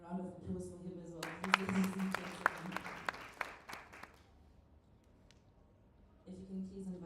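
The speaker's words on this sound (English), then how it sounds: "A round of applause for him as well" A short burst of applause from a room of people rises for a few seconds and fades, with talking before and after it.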